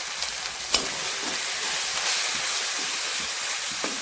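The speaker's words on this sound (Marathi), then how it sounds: "याला छान असं परतून घ्यायचं" Spices for masvadi curry sizzle in oil in a pan, a steady hiss of frying with a few light stirring scrapes, close and continuous.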